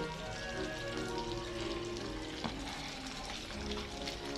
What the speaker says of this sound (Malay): Gently masukkan mentega ke dalam kuali.